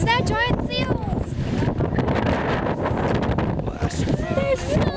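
Strong wind buffets the microphone with a constant loud roar on the coast by a colony of giant seals, while a person talks underneath, partly drowned out.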